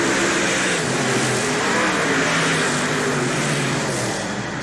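Late model race cars on a dirt oval at Hales Corners in a 1989 WOO heat roar steadily past, a loud, continuous engine drone that swells slightly and holds, with no voices over it.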